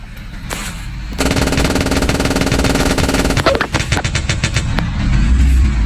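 Automatic gunfire from the video game Polybattle rattles in long, dense bursts, loud and sustained, breaking into a few separate sharp shots toward the end, with no talk over it.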